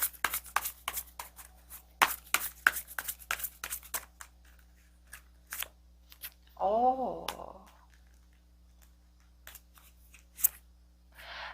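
Tarot cards are shuffled and drawn close up, giving a string of crisp, irregular snaps and flicks that stop and start, with a brief vocal sound partway through.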